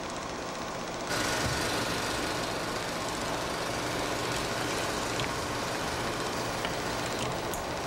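A film projector runs in a theatre projection booth, a steady loud mechanical clatter and whir that kicks in after about a second and continues without a break, with no voices.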